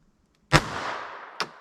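A Kel-Tec pocket pistol in .32 ACP fires, giving a sharp close crack out of silence with a brief decaying ring, then a second short report about a second later.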